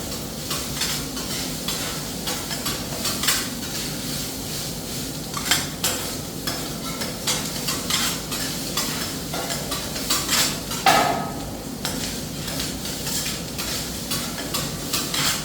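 Fried rice is stir-fried on a teppanyaki grill, with a continuous sizzle under rapid metallic scraping and tapping of spatulas on the hot steel plate.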